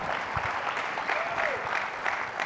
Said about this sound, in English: You can clap for that too.